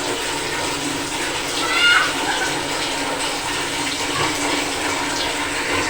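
Water pouring steadily into a pot, a continuous close splashing rush that swells briefly near the middle, with no talking over it.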